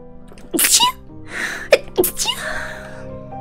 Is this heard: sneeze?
yes